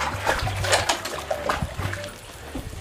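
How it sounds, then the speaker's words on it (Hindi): Water splashes and sloshes as a bucket is filled deep inside a century-old lever-pole village well, with uneven close splashes and trickles across a few seconds. "मैं पानी भर चुका हूँ"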